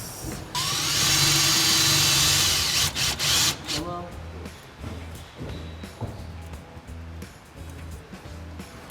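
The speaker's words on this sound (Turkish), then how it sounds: "Buralara vida atacağız." A power drill drives screws into wood during a caravan build, a loud whirring burst lasting about three seconds, followed by people talking over faint workshop noise.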